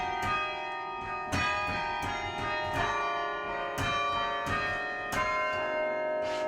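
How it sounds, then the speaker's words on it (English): Tower chime bells ring out a slow melody, each struck note blooming with a long shimmering decay that overlaps the next, loud and resonant with no voices. "If you're playing something that's written specifically for the bells"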